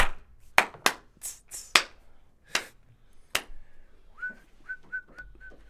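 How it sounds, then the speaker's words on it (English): Several sharp, separate hand claps ring out in an indoor room, each one loud and close with a short echo behind it. A few whistled notes follow near the end. "Clap test?"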